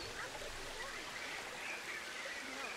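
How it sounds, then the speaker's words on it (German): Splashing, trickling water in the Planet Zoo video game forms a steady, soft stream of babbling that stays even and unbroken throughout, with no talking. "Wir hören hier auf jeden Fall schon mal Wassergeplätscher."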